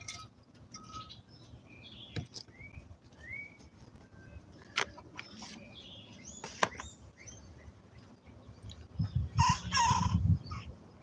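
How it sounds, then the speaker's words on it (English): Young bantam rooster crowing in short, thin bursts among scattered bird chirps and clucks, with a louder burst of fowl calls near the end; no talking. "One of our Bantam roosters has finally gotten old enough to start crowing,"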